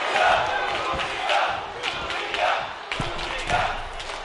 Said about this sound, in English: I think the crowd knows what's coming.